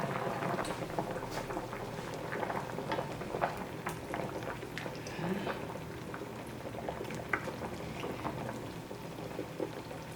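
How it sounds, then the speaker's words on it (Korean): Steady bubbling and gurgling of a pot of Korean spicy braised chicken stew boiling nearby, a continuous busy simmer with small pops throughout. "끓기 시작했요"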